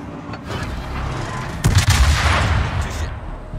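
Heavy naval gunfire from the German battleship Scharnhorst in a 1943 setting within a video game: a sustained rumbling barrage with a sharp, louder salvo blast partway through, low booms rolling on beneath crackling mid-range noise.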